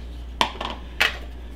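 A knife works on a pizza burger bread: three quick sharp metallic clinks and scrapes against a plate or pan, close and clear, over a low steady hum.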